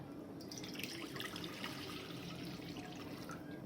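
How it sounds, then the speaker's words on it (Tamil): Water poured from a measured cup into a pan on a lit stove, a steady splashing trickle with faint drips, close and continuous with no talking. "ml தண்ணி ஊற்றிக்குங்க."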